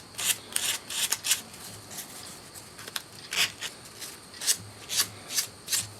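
Rusty cap iron bolt from a 1950s Record No. 4 plane being rubbed with 400 grit sandpaper, a series of short, close, raspy scrubbing strokes in uneven rhythm, quiet and alone.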